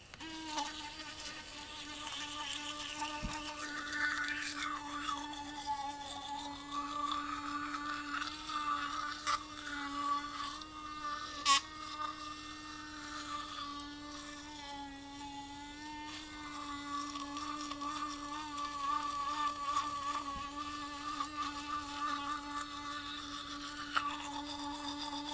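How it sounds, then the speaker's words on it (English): Fairywill electric toothbrush buzzing during brushing, a continuous thin high whine that wavers as the head moves against the teeth, with one brief pause partway through and no speech. "the toothbrush actually just paused to let you know you're in your"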